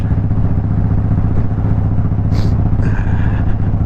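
2008 Harley-Davidson Crossbones Softail riding on the road, with a loud, close, continuous engine rumble and wind noise that stay steady throughout.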